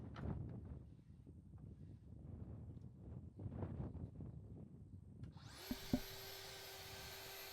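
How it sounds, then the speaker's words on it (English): A power tool trims the resin edge of a black walnut river table, starting up partway through with a high, steady whine after a stretch of soft shuffling and low workshop noise. "So now I'm just trimming off one of the edges where the resin's at."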